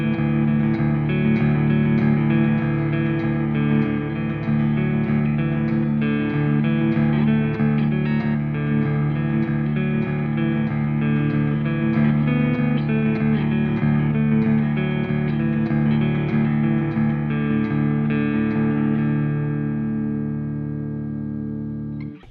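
Ibanez Prestige RG electric guitar playing clean tones through a Mesa cabinet, a steady run of ringing chords and notes with shimmering effects and reverb, loud and continuous before fading out at the end.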